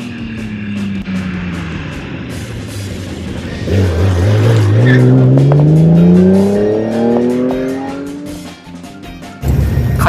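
A classic Nissan S31 Fairlady Z on a test run revs and accelerates, engine pitch climbing through several gears, loud and close, then easing off near the end.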